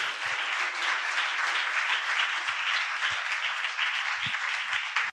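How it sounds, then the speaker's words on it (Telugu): A seated audience applauds at a Ramayana speech event, dense continuous clapping that stays loud and steady for about five seconds and then cuts off abruptly. "Give him a big applause."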